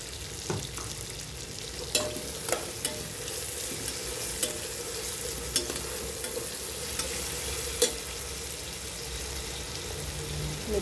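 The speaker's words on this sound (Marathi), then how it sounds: "आता त्यामध्ये आपण काजू टाकून घेणार आहोत। त्यात चवीनुसार मीठ टाकणार आहे।" Cashews and salt are stirred into masala rice roasting in a pan, with a soft continuous sizzle and repeated scraping taps of a spoon against the pan.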